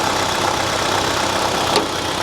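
A 1970 Cadillac Coupe DeVille engine idling, a steady close, even rumble running throughout with no speech over it.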